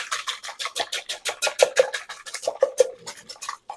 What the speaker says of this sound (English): So we've got our whisk right here. And we'll just whisk that up.